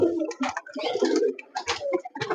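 Red Giribaj pigeons kept on a farm coo in a series of close, throaty, rolling phrases with short pauses between them.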